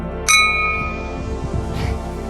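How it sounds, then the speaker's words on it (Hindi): A metal temple bell at the Kartikeya Swami Temple is struck once, a sharp bright ding with a long shimmering ring that fades slowly, close and fairly loud, with faint shuffling underneath. "जैसे देखो यहाँ पे घंटी है,"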